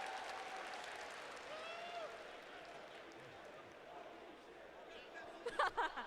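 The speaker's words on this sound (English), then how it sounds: "this crowd is unreal" Crowd applause and cheering at the Evo fighting game tournament, ahead of Guilty Gear Strive top 8, a steady roar of a large audience from a distance, swelling into louder bursts near the end.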